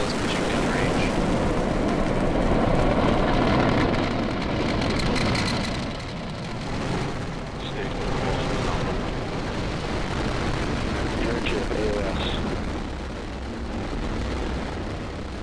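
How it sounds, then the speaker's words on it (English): SpaceX Falcon rocket engines at liftoff on the CRS-17 Dragon launch, a loud continuous broadband roar and crackle that stays steady throughout, with a commentator's voice heard faintly over it. "Ignition. Liftoff. And Dragon go Falcon."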